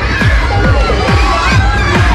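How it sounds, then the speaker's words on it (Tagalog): Crowd of people shouting and cheering together in a street during a local barangay event, a loud continuous roar of many voices close by with repeated rising yells. "Pakinggan niyo lang yung mga nagsisigawan."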